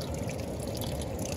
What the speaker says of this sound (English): Just get water over it.